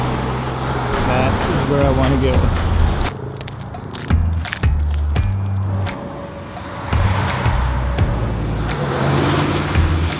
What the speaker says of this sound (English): all these cars that are driving by me right now are going in multiple different directions